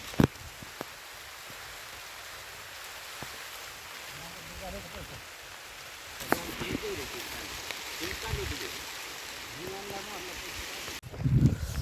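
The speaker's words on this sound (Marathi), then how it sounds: "पाऊस पडतोय बघू शकता, भरपूरच आहे" Steady rain patters softly on a sugarcane farm while a person talks over it, with a few louder knocks and rustles.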